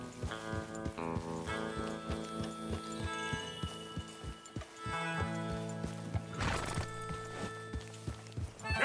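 Horses clip-clop at a steady trot in Red Dead Redemption 2, hooves beating a regular rhythm throughout, with a whinny partway through and game music running underneath.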